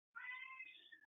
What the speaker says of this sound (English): Apologies if you hear Larry's cat in the background